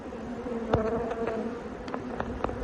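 A dense, steady buzzing of many honeybees from an aggressive hive hums up close on a frame of grafted larvae, with a few sharper taps and knocks breaking through.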